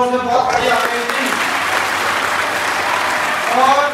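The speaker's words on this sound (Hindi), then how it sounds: "तो बच्चों हमारे स्कूल में जोर से तालियां दो" Schoolchildren clap loudly and steadily at a school founding-day celebration, a dense sustained round of applause, with a voice over it at the start and end.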